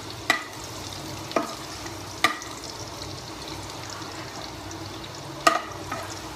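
Garlic frying in a pan for a tilapia dish, a steady low sizzle broken by a few sharp clacks of a utensil against the pan, close and moderately loud, with no talking.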